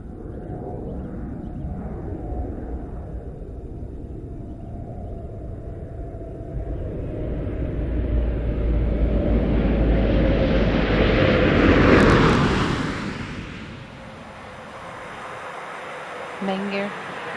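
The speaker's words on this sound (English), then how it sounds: "landing gear now down and locked. Main gear touchdown." Space Shuttle Discovery coming in to land at Kennedy Space Center, a broad jet-like roar that builds to a loud peak as it passes close, then fades, with faint announcer speech in the background.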